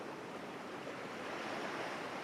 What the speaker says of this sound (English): Listen to the waves crashing to the shore.